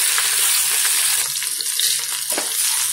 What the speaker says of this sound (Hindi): भिंडी का कलर थोड़ा सा चेंज हो जाए तब तक हम इसे फ्राई करना है।